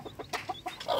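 Free-range village chickens clucking in a coop, a series of short close clucks and calls that repeat over about a second.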